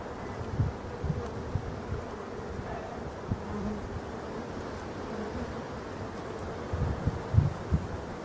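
Forest honeybees swarming beside a hive make a steady, dense buzz that fills the whole stretch, with a faint low rumble and a few soft bumps near the microphone.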